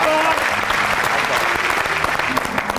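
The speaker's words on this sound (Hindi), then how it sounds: "मलंगी साहब की तालियां जोरदार" A studio audience on a music talk show breaks into loud, sustained applause, dense clapping holding steady with faint crowd voices underneath.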